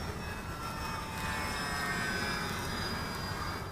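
A Dynam Grand Cruiser RC airplane drones overhead in flight, a faint steady engine whine with a slight pitch shift as it passes, heard from a distance with no talking.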